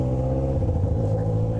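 Yamaha XJ6 motorcycle with a stainless-steel 304 straight-pipe exhaust, tuned with FuelTech, revving on a city avenue: a steady, loud low engine drone with a rising rev midway and no talk over it.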